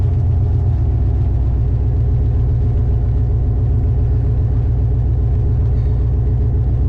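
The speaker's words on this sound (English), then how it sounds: "More race cars." Race car engines at a drag racing event in Orlando, a loud, steady low rumble and drone that holds throughout without a clear pass-by peak.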